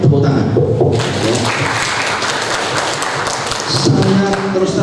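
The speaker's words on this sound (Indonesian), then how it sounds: "tepuk tangan" An audience claps and applauds through most of the moment at a school training event's opening remarks, a dense, steady patter that swells quickly and fades near the end, with a voice speaking just before and after.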